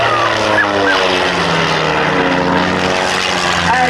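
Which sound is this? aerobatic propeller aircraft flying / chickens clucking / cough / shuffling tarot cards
aerobatic propeller aircraft flying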